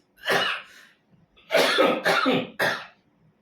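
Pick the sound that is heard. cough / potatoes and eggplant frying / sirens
cough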